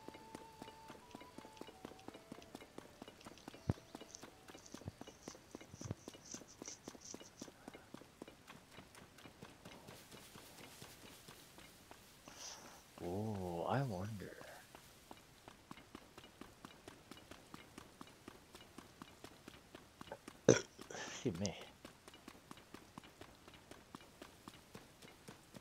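Faint, rapid clip-clop of horse hooves in The Legend of Zelda: Tears of the Kingdom, a steady quick rhythm running throughout at low level, broken by a few short game chimes and effects.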